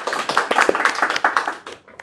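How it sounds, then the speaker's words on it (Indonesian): Applause for the 17th episode of an Indonesian talk show, a brisk burst of many hands clapping together that carries on steadily before thinning out and fading at the end. "Kasih selamat dulu, tepuk tangan dulu dong."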